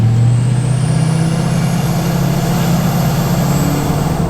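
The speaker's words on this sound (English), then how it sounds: "that Stealth Series Turbo just always whistles to the perfect harmony" A Duramax diesel truck with a Stealth Series turbo roars loud and close in a steady heavy drone, with a thin high whistle that rises and holds across the top.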